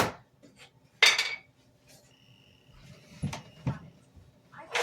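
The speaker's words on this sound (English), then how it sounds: "Toss in that ground beef and break it up as it cooks." Ground beef broken up in a pot as it cooks, heard as sharp metal scrapes and clanks of a utensil against the pot, scattered between quieter stretches with faint rustling.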